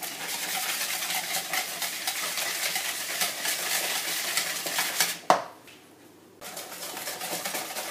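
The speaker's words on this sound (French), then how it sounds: "Puis on mélange au fouet jusqu'à ce que le mélange blanchisse." Sugar whisked into egg yolks in a bowl for a marble cake, a fast continuous scraping whir up close that stops abruptly with a knock, pauses about a second, then resumes.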